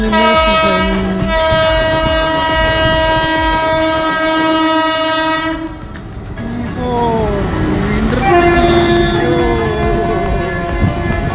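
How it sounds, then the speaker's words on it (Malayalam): The Ernakulam Junction–KSR Bengaluru Intercity Superfast Express passes close by a station. A loud, sustained horn blast opens the sound, followed by a heavy rush and rumble of the train and a second horn whose pitch bends as it goes by. "നമ്മുടെ Ernakulam junction KSR Bengaluru intercity super fast ഇതാ കടന്നു വരികയാണ്"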